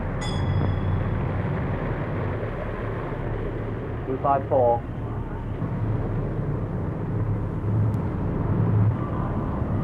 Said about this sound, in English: the tank landing craft eases her way into Scapa Flow